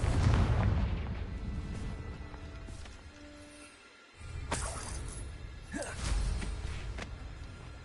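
A Confringo blasting spell explodes in Hogwarts Legacy on PS5, giving booming blasts with sharp cracks and whooshes, a brief dropout midway, then further loud impacts over a rumbling game backdrop.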